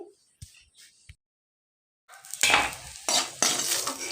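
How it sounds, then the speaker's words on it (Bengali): Fried lentil dumplings (bori) lifted out of hot oil in a kadai, starting with a few sharp utensil taps and scrapes, then a pause, then loud bursts of sizzling and stirring in the pan. "বড়িটাকে একটু লাল লাল করে ভেজে নিয়েছি এবার বড়িটাকে আমি প্রথমে তুলে নিচ্ছি"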